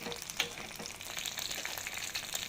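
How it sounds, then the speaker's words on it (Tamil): Curry leaves frying in hot oil in a pan for a fish fry, a steady dense sizzle with crackling pops throughout, close and continuous. "இப்போ பேனில் எண்ணெய் ஆட் பண்ணிவிட்டு கருவேப்பிலை போடலாம்."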